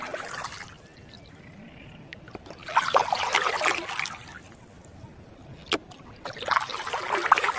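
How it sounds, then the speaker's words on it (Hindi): Oars dip and splash as a boat is rowed on a river in a cartoon, giving intermittent watery swishes and trickles, moderately near, with gentle water noise between strokes. "विनय नाव चला रहा था"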